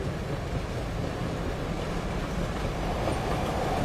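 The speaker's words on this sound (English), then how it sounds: "Can you imagine Franklin on this train? Eating at the dining car with all this silver" A passenger train rolls along the rails with a continuous rumbling roar and a faint rhythmic clatter, steady and close, with no talk over it.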